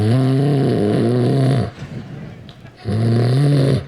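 A voice imitates a father snoring, two long, loud, rumbling snores close to the microphone with a breathy pause between them.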